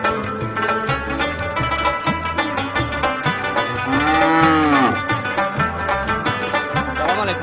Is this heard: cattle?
yes